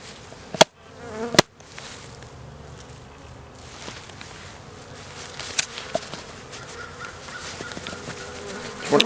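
Honey bees, about 300 of them, buzz steadily inside a jar during a varroa mite test at a spring hive inspection, a continuous close drone broken by a couple of sharp knocks early on.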